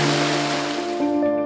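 A waterfall in the Great Smoky Mountains gives a steady, full rushing roar of falling water. A soft tonal music bed runs underneath throughout.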